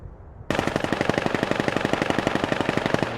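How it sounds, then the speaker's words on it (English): In the VR shooter VAIL, a gun fires one long automatic burst of rapid, evenly spaced shots, loud and close, starting suddenly after a short quiet lead-in, with no talk. "Gunshots from Taquito."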